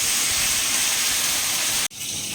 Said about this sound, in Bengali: এবার রসুনটা ভাজা ভাজা হয়ে গেছে এবার আমি শাকগুলো দিয়ে দেবো